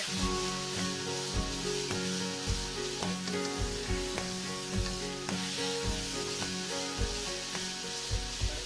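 Ginger, garlic and chilli stir-frying together in a pan, a steady close sizzle with rhythmic scraping strokes of a utensil against the pan repeating throughout.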